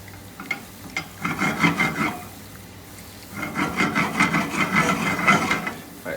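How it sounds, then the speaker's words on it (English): A utensil scrapes and swirls through thickening sauce in a pan, two bursts of stirring separated by a brief pause, close and fairly loud. "I'm just going to kind of stir that."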